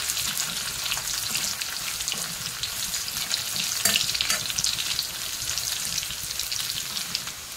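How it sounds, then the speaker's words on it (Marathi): Red chillies fry and sizzle in hot oil in a pan while being stirred, a steady close crackling hiss with light scraping throughout, no talking. "त्याच्यानंतर या लाल मिरच्या टाकते त्यात। चांगलं परतून द्यायचं।"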